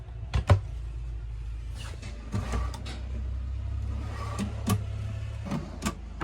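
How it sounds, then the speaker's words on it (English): Soft thuds and light clicks of soft-closing drawers sliding shut in a Lance 1062 camper, several spaced closings over a low steady hum. "With soft closing drawers."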